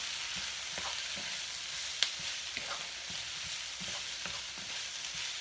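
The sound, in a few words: peas, carrots and corn frying in a pan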